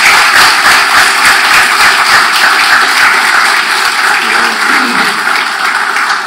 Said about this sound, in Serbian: pozdravite ovaj skup jednim aplauzom